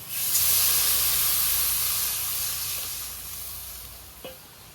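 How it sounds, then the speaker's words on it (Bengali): Water poured into a hot pan of lightly fried mango with turmeric and salt sends up a loud, steady sizzling hiss that slowly eases, ending with a faint clink. "আমটা ভেজে নিয়েছি, এখন দিয়ে দেবো জল।"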